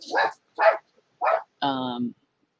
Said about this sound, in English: the dogs are after the cat, it sounds like.